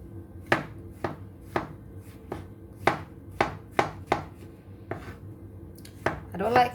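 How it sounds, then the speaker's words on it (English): A knife chops mushrooms sharply on a board in a steady series of about a dozen distinct cuts, close and clear, with no talking. "let's start chopping the mushrooms"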